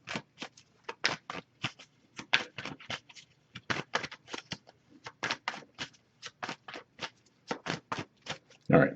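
A tarot card deck is shuffled by hand in repeated quick riffles and taps, each a crisp papery burst with short pauses between, close and fairly quiet, ending with a brief muffled handling sound.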